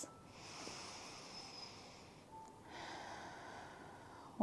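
Slow, deep breathing during a gentle yoga cool-down stretch, soft and close, with long airy inhales and exhales and a brief sniff near the start.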